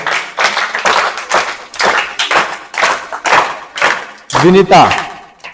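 Students in a classroom clap together in rhythmic, evenly spaced bursts, each a close, loud group clap with a short pause between, and a voice rises briefly near the end.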